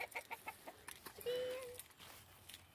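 Chickens cluck and murmur nearby in short bursts, with one drawn-out squawk partway through and a bit of soft background noise.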